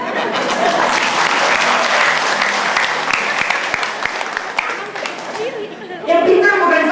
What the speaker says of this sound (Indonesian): tepuk tangan sendiri